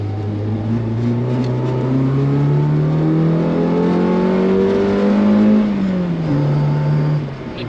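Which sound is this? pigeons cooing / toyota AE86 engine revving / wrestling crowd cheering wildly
toyota AE86 engine revving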